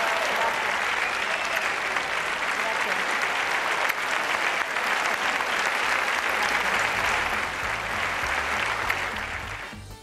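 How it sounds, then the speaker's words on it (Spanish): A long standing ovation at a party convention: a big hall crowd claps in a continuous, even roar of applause that holds for the whole stretch before easing slightly near the end. "Más de un minuto de ovación cerrada"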